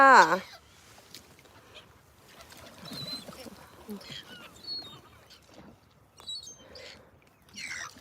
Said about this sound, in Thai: ทั้งเป็ด ทั้งนก ทั้งห่านทั้งหงไม่มีเจ้าของ